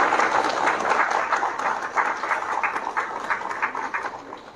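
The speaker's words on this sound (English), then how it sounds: "give her a big round of applause" An audience in a school hall gives a round of applause at an academy event honoring students, a steady wash of many hands clapping for several seconds with no talk over it.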